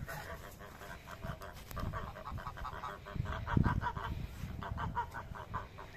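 Geese on a farm honking repeatedly in a rapid, overlapping chorus at close range, with other fowl calling faintly in the mix and no talking.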